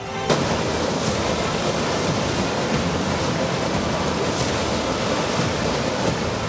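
Water released from the Tungabhadra dam into the river at about 1.5 lakh cusecs after heavy rain roars in a loud, steady, unbroken rush, with no voices.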